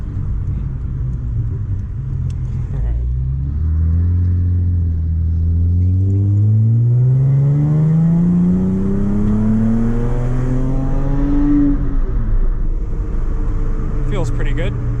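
Chrysler Crossfire SRT6 track car accelerating from the cockpit, engine pitch climbing smoothly and loudly over several seconds before easing off, with a brief drop near the end.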